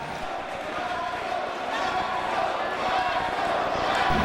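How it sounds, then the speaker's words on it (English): A wrestling crowd cheers and roars steadily at a match with weapons around ringside, a dense, loud wash of voices building slightly toward the end. "And the crowd shows their appreciation."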